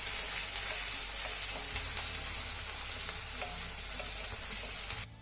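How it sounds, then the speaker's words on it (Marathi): Chopped onion sautés in hot oil in a kadhai with a constant fine sizzle, occasional soft stirring clicks, close and alone until it cuts off at the end. "आता हा कांदा ना आपल्याला हलक्या सोनेरी रंगावरती चांगला परतून घ्यायचा आहे"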